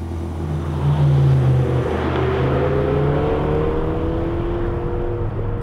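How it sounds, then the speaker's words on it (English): A McLaren GT sports car drives in comfort mode, its engine giving a steady droning hum with smooth rising and falling pitch as it runs up through the revs, heard from inside the cabin with road noise and no talk. "Right now, I'm just driving this GT with everything set to comfort mode."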